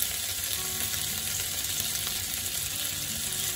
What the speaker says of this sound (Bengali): এভাবে আমি চারদিক ঘুরিয়ে ঘুরিয়ে ভেজে নিব।